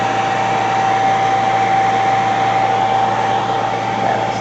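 A hair dryer blows steadily on cobalt glaze coating a ceramic trinket dish, a loud, constant close whoosh with a fixed whine and no change in pitch, and nobody speaks.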